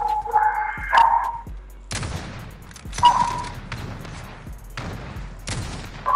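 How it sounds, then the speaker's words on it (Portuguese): Several sharp gunshot bursts from the video game Sniper Wars crack out in quick succession, loud and close, with rumbling impacts and brief gaps between volleys. "é um tiro"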